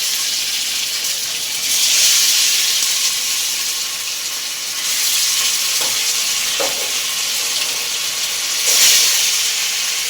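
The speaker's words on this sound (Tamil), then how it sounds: "இப்போ மீனை போட்டு பொரிப்போம்." Fish pieces frying in a hot pan, a steady loud sizzle and hiss that swells and eases in waves, with a few faint utensil taps.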